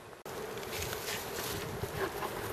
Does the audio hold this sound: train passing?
no